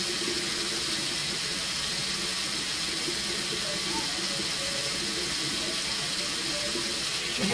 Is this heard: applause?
no